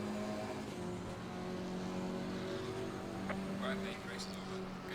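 A KTM GT4 race car engine at full throttle in Assetto Corsa Competizione, a steady droning whine held throughout, fairly faint beneath a talking voice.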